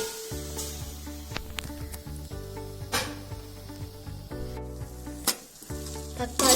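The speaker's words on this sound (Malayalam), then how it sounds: "ഇനി അതിലേക്ക് എണ്ണയൊന്നും ഒഴിക്കാതെ മുറിച്ച് വെച്ച തക്കാളി ചേർക്കാം." Chopped tomatoes go into a hot pan without oil and give a steady hiss and sizzle under loud background music that carries through the whole stretch.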